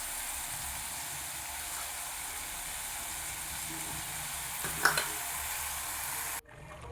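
Marinated chicken for a Kerala-style varutharacha chicken curry heats in a pan over a low flame, giving a faint, even sizzle with one brief clatter before the sound cuts off abruptly.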